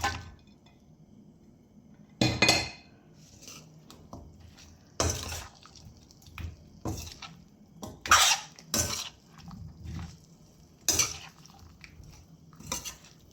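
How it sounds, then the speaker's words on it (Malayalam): A spoon scrapes and clanks against a pan as chicken pieces are stirred through frying masala in oil, giving irregular metallic knocks and scrapes with short pauses between them, close and fairly loud. "ഈ മസാലകളൊക്കെ ചിക്കനിൽ നല്ലോണം ഫ്രൈ ആയി പിടിച്ച് വരുവാൻ വേണ്ടി നല്ലതുപോലെ ഒന്ന് ഇളക്കി കൊടുക്കുക"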